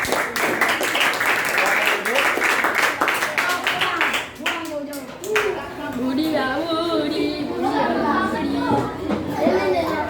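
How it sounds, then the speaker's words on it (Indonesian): Schoolchildren in an Indonesian classroom clap together for five classmates after a group presentation, a lively burst of many small hands with children's chatter and voices mixed in, loud and close, settling into busy classroom noise. "Tepuk tangan untuk kelima teman kita."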